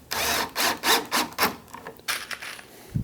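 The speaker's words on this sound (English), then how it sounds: "put some pocket hole screws in. And I'm not really grinking them, I'm just snugging them down" A screw gun drives pocket hole screws into wood, snugging them down in several short whirring bursts that ramp up and cut off, close and fairly loud, with brief pauses between.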